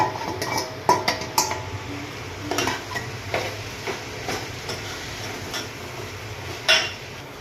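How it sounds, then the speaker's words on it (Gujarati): Soaked poha is added to a pan and stirred, giving repeated close clinks and scrapes of a spoon against metal over faint background noise. "આપણે જે પૌવા પલાળીને રાખેલા છે તે પણ ઉમેરી દઈશું હવે"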